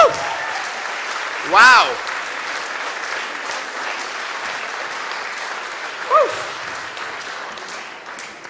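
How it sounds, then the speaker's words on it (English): Audience applause fills the hall at a classical Christmas concert after JJ McNamara's performance, steady and sustained throughout, with a short whistle-like cheer and brief exclamations from a voice near the start and again later. "ladies and gentlemen, give me a huge round of applause"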